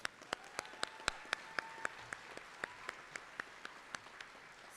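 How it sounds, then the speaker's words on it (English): Scattered hand claps at a high school graduation ceremony, a steady run of distinct, evenly spaced claps that sound faint and distant, like only a few people clapping in a large hall. "Let's give them a round of applause."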